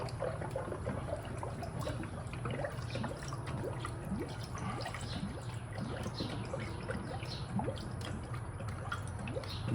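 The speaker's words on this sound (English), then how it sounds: "So what we do is we just start pouring this in." Coolant is poured into a funnel on the radiator of a 2015 Mazda CX-5 with the engine off. Quiet, steady trickling carries scattered drips and small bubbling pops as air escapes.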